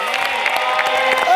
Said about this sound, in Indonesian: Tapi tepuk tangan juga dong untuk Parkour Jakarta.